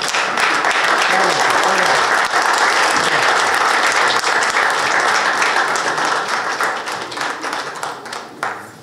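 An audience at a Punjabi community event in Brampton gives loud, sustained applause from many hands, which carries on steadily before gradually thinning out toward the end.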